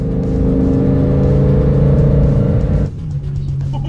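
A Lamborghini engine revs with a loud, sustained, throaty roar, close by, then cuts off abruptly near the end and drops to a lower idle hum.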